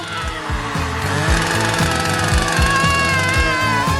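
A loud, rapid mechanical rattling with repeated rhythmic strokes, like a power saw cutting, running continuously up close.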